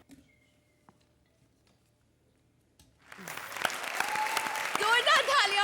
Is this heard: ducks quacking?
no